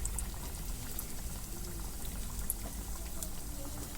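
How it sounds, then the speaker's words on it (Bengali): Potato chops being refried in hot oil on a gas stove, giving a steady dense bubbling sizzle throughout with scattered small pops and crackles, no voices. "যেটা ঠান্ডা হয়েছে প্রথম ভেজেছিলাম সেটা আবার তেলে ভাজছি"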